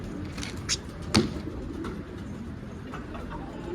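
Stray pigeon found on the street hiding under a car, giving soft low cooing at close range against steady outdoor background noise, with a couple of brief sharper sounds.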